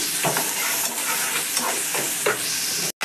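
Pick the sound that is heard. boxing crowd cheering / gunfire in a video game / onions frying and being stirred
onions frying and being stirred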